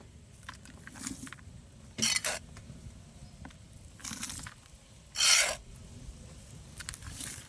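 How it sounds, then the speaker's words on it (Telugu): Dried soil poured into a compost container, heard as gritty rasping, scraping pours in several separate bursts over quiet gaps, close and fairly faint. "అడుగున ఎండబెట్టిన మట్టి వేస్తున్నాను."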